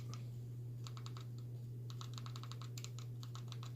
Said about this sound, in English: we'll go ahead and type it in here